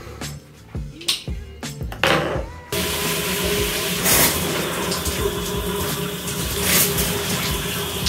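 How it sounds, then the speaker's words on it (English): A shower sprays water in a continuous, fairly loud hiss after a few knocks and clatters at the start, holding steady to the end. "Now it's time to jump into the shower."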